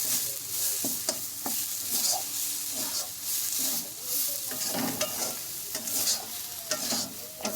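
Spice paste with poppy seeds being stir-fried for a potol chingri curry, a continuous sizzle broken by repeated scraping strokes of a spatula in the pan.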